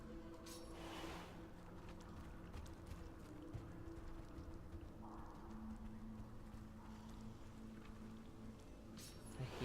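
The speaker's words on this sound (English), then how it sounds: "I hear footsteps." Footsteps in the fantasy game Of Orcs and Men, a steady run of soft, muffled clopping steps over low ambient game noise, fairly faint and continuous.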